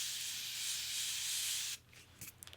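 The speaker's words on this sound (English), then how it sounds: "I love the aerosol kind of sprayer on here." An aerosol can of Morphe setting spray sprays one sustained hissing burst for under two seconds, close and fairly quiet, followed by a few light handling taps.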